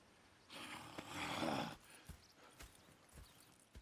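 Horses in Red Dead Redemption 2 stir and move, a swell of hooves and rustling that rises and fades over about a second, then scattered hoof knocks and soft thuds, fairly quiet.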